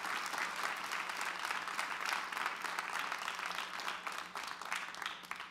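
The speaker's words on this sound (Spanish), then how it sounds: "Dele el aplauso al Señor." Steady, dense applause from a church congregation giving praise to the Lord during a sermon, a continuous wash of many hands clapping at fairly even loudness throughout.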